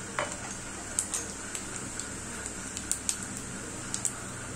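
Half a teaspoon of cumin seeds frying in about three tablespoons of hot oil for a Bihari rainy-season recipe, a steady sizzle dotted with small sharp pops and crackles, close and without talk.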